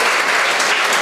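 An audience in a hall at a charity's Diwali celebration applauds the hall owner, a short burst of loud, dense clapping.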